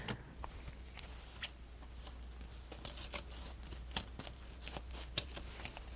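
Scissors cut through craft material for a rustic Christmas porch leaner, making a scattered series of crisp snips and rustles close by in a quiet room.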